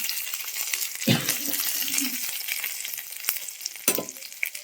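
Stuffed eggplant filled with peanut-chili masala fries in an iron pan, a loud steady sizzle with a few sharp clinks and stirring scrapes.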